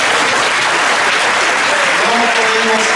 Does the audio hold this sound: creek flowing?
no